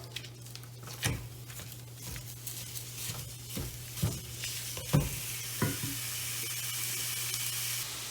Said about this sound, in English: first thing we're gonna do is we're gonna brown the sausage